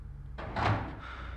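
A door creaks and thuds open in the Silent Hill video game, a short mid-loud sound of about a second standing alone with no voices over it.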